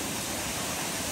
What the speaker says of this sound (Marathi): हे बघा इथे हा धबधबा आहे मोठा